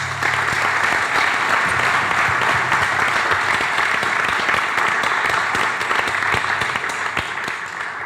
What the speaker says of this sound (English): One more round of applause for everyone this evening.